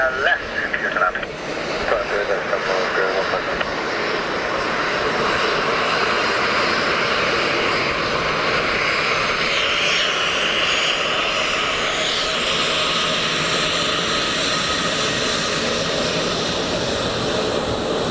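An aircraft landing at Dublin Airport gives a steady, loud jet engine roar that holds throughout, with radio voices and talk over it.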